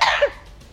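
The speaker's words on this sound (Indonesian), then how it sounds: "Batuk." A single short, sharp cough, close and fairly loud, ending almost at once.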